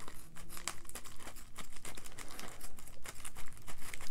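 Scissors cut open a shipping package holding a Geiger 10 oz bullion bar, a quick series of close crinkling snips and plastic or cardboard crackles with no talking.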